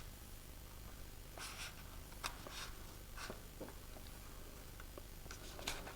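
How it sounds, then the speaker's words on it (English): Safety scissors snip through paper in a quiet winter art session, a few soft irregular crisp cuts and rustles spaced out over a faint steady background hiss. "I'm going to take my safety scissors, going to insert it in the hole"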